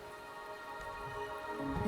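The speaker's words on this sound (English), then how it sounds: "The rain is subsiding" A short burst of rainfall in the video game Wuthering Waves, an even hiss of drops beneath faint droning music that grows slightly louder toward the end.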